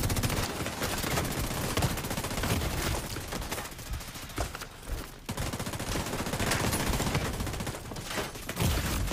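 Rapid gunfire from a Division 2 Dark Zone PvP fight with shotguns and assault rifles, dense and loud, with bursts and volleys crowding one another almost without a break across the whole stretch.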